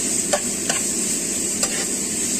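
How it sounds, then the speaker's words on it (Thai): Pork stir-fried in a hot pan for Thai basil stir-fry, a steady bright sizzle broken by a few sharp scrapes of a spatula against the pan. "เราต้องคั่วหมูให้สุกก่อนนะครับ"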